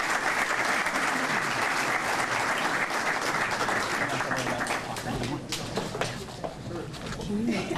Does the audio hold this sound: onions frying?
no